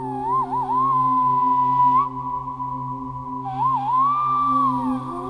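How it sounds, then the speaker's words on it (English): A melodic whistle blown through cupped hands gives a hollow, flute-like tone with rising and falling warbles, two sustained phrases separated by a held note, clear and close. "I've been doing this kind of whistle with my hands ever since I was a child."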